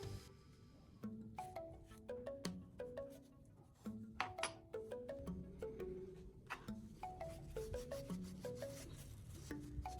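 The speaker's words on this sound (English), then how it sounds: "I'm thoroughly wiping the drill bit with a clean cloth" A cloth rubbing over a metal drill bit gives soft, repeated scraping and wiping strokes with small clicks and taps, close and fairly quiet.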